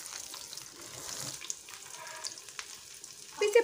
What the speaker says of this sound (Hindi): एक बार की टिक्की फ्राई करने में 8 से 10 मिनट लग जाता है।